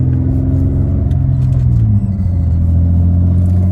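A car engine close up holds a loud, steady rumble, its pitch sagging once midway and then settling back into a low drone.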